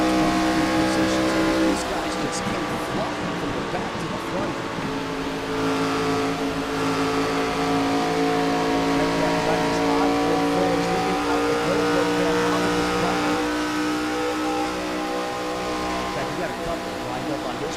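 ARCA Series stock race cars run side by side on track, their engines holding a steady, loud, droning roar throughout, with a commentator talking over the noise.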